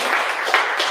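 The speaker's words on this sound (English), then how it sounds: "big round of applause for Dave" Steady applause from a crowd, a dense wash of many hands clapping at even loudness for the full second, with no voices over it.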